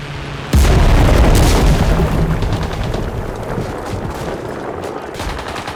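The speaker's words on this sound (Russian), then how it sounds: "Граната! В укрытие!" A grenade goes off in the World War II shooter Enlisted, defending the Maisky Forestry in the Moscow campaign: a sudden loud, close boom that rolls into a long rumbling decay with scattered gunfire continuing underneath.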